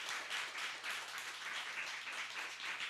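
A church congregation claps in steady applause after the pastor asks them to honor those who toiled and sweated hiking the mountain, a dense, even patter of many hands held at moderate, unchanging loudness with no speech.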